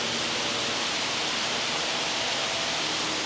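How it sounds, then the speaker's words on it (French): A steady, dense rush of falling water from a garden waterfall at Montreal's Botanical Garden, loud and close, filling the whole clip with no voices. "Là il y a une cascade."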